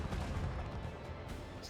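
Macro cannons firing during a starship battle in Rogue Trader, a dense, continuous low rumble of heavy booming fire with no clear gaps, loud and close throughout.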